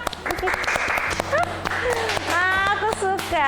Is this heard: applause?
yes